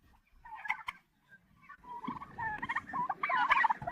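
A flock of turkeys gobbling in rapid, warbling bursts, growing busier and overlapping toward the end, fairly close.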